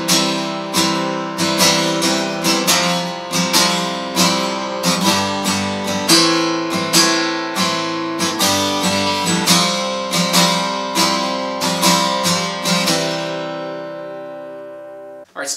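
Acoustic guitar strumming chords for a worship song, a steady rhythmic down-up pattern of bright strums, close and alone, ending on a let-ring chord.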